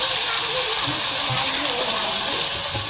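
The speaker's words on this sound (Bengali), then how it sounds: "এবার আমি জল দিচ্ছি।" Water is poured into browned mutton kosha in a pan, making a loud, continuous, close gushing and bubbling rush that lasts the whole stretch.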